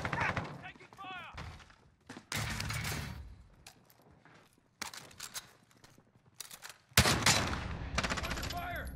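Gunfire in the Warzone battle royale video game, with bursts of automatic fire and impact thuds arriving in clustered volleys between quieter stretches, mixed with game voice callouts.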